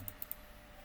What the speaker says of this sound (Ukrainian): Двойний клік зроблю.